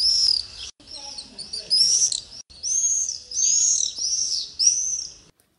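Uniformly brown migratory summer bird calling: a series of thin, high, slightly rising whistled notes repeated about eight times in quick phrases, clear and close against a quiet background.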